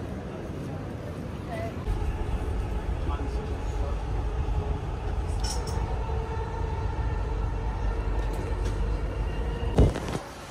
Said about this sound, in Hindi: तो गाइस आज मेट्रो में सफ़र किया,